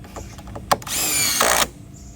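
A power drill drives screws into the bottom of a frangible vertical base, with a short tap and then one sustained whirring burst that stops abruptly, heard close up.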